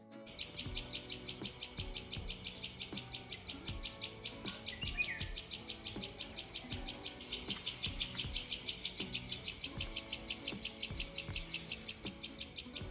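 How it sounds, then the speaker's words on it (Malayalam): Many birds chirp loudly outdoors in a dense, continuous chorus of rapid repeated tweets that carries on for the whole stretch over faint background noise. "കുറേ കിളികൾ അവിടെ നിന്ന് ഇവിടെ നിന്നൊക്കെ കിടന്ന് വല്ലാത്ത ചിലയെന്ന് പറഞ്ഞാൽ ഭയങ്കര ശബ്ദമാണ് കേട്ടോ"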